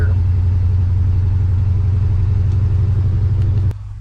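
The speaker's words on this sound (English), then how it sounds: "most of the noise is coming from the wind noise around the windshield here" Wind roaring around the windshield of a Dodge D150 truck cab, a loud, steady, close rush with a low droning undertone that drops off sharply near the end.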